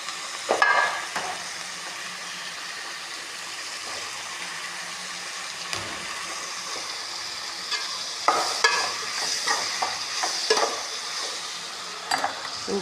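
Tomatoes sautéing in a pan for a prawn curry, giving a continuous close sizzle broken by repeated stirring scrapes and clinks of a spoon against the pan, without speech.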